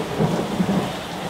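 Rain pours steadily through a night thunderstorm on the US tornado-chasing plains, with a low rumble of thunder rolling underneath in a brief, dense burst.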